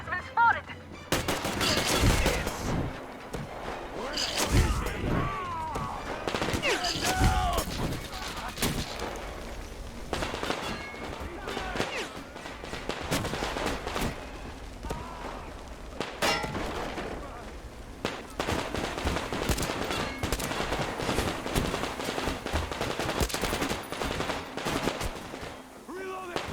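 Sustained gunfire in the video game Metro Exodus, dense bursts of automatic shots and clanging impacts running almost without pause, loud and close, with shouted voices mixed in.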